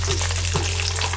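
Seven or eight dried red chillies and small onions frying in a pan, a steady close sizzle with a constant low hum underneath.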